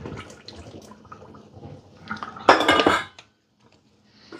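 A colander and metal pots being handled in a home kitchen while cooking, with clattering knocks and scrapes building to a loud metallic clank, then near silence.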